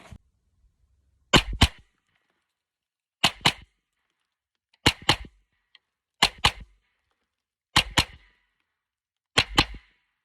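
A 9mm carbine fires on a shooting range: six sharp, loud reports spaced roughly a second and a half apart, each with a quick doubled crack and short echo, with quiet between shots.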